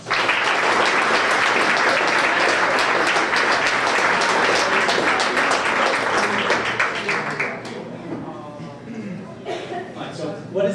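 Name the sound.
audience applause for Tyler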